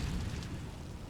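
An Incendio fire spell is cast in Hogwarts Legacy, producing a close, dense burst of roaring flame that rushes steadily for a moment with no voices over it.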